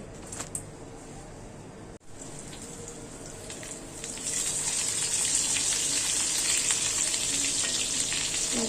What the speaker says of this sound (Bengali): আমি মুরগি ভাজবো,